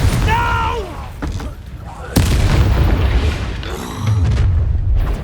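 Blasting spell explosions from the video game Hogwarts Legacy, a sharp loud boom followed by rumbling blasts and combat noise, with a shouted voice in the mix.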